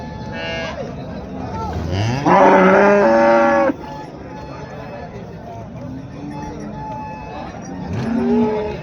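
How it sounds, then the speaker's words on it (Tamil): Sindhi cattle moo at a busy cattle market, one long, loud low call standing out with fainter moos after it, while people talk and crowd noise carries on underneath. "இதெல்லாம் நமக்கு பார்த்திங்கன்னா சிந்து மாடுங்க."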